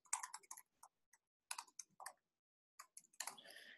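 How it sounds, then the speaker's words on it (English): Quiet, close clicking of keys on a computer keyboard while an email address is entered, short irregular bursts of taps with a pause in the middle. "we'll go ahead and type our email address"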